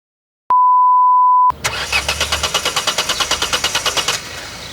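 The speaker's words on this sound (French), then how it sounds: "Une panne de voiture, même en bas de chez soi, ça peut arriver à n'importe qui" After a sharp electronic beep, a car's starter cranks repeatedly in a fast rhythmic churn for a few seconds without the engine catching, then cuts off, close and clear.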